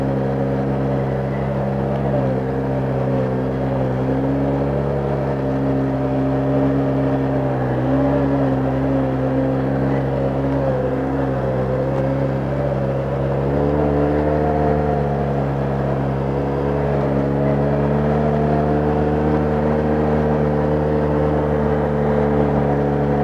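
An ATV engine drones steadily on a mountain road ride, a loud continuous hum that rises and falls slightly in pitch as the rider throttles, with no voices over it.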